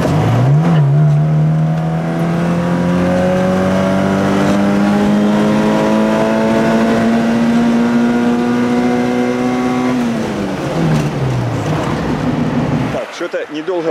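Up close, a Moskvich car engine with a newly assembled cylinder head revs, its pitch climbing gradually and holding high for several seconds before dropping back down to idle.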